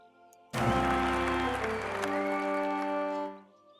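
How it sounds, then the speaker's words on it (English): A crowd in an assembly hall bursts into loud, sustained cheering and applause that holds steady for nearly three seconds before fading, with sung or tonal voices woven through the roar. "After the initial cheering ended"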